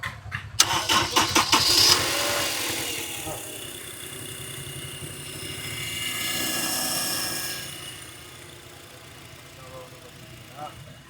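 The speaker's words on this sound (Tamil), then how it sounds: "வண்டி ஜஸ்ட்டு ஸ்டார்ட் ஆகிறத மட்டும் பாருங்கள்" A car engine cranks with a few rapid sputters, then catches and settles into a steady idle that swells briefly before quieting.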